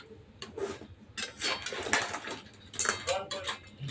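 A lid lifted off a cooking pot and the food stirred, heard as a series of close metallic clanks and scrapes of utensil against pot in irregular bursts, with a faint voice in the background.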